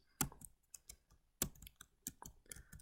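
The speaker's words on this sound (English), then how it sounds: "I could hit Enter on my keyboard to add spaces." Computer keyboard keys clicking alone at close range, with one sharp loud keystroke and a second strong press amid several lighter, irregular taps.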